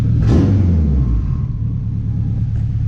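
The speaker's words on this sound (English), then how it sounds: "You can hear that turbo spool." A K24 engine revs up with a rising whoosh of turbo spool through an exhaust cutout, then settles into a steady low rumble nearby.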